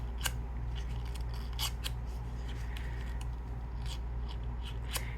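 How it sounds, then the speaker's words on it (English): Scissors blade runs along paper to curl a paper flower petal while crafting with templates, a close, steady scraping rasp with a few sharp snips and ticks, no talking. "I'm gonna use my scissors and just run it along like you would curling ribbon"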